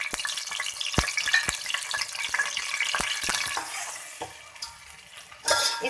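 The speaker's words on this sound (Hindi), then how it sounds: "अब इस ऑयल के अंदर हम डाल देंगे ये टमाटर।" Tomatoes sizzle loudly as they fry in hot oil in a pan, with a spoon scraping and clinking against the pan at a quick, uneven pace; a final burst of hissing comes near the end.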